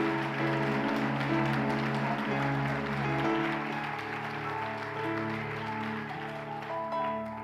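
A church congregation applauds during a service, a steady wash of clapping running the whole time beneath loud, sustained worship music.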